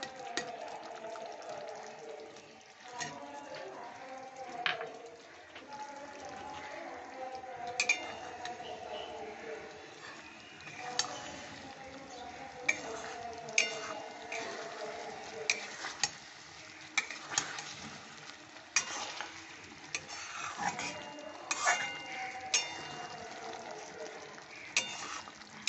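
Cashew and poppy seed paste frying in a pan for matar paneer, stirred with soft scraping and faint clinks against the metal under a steady low sizzle.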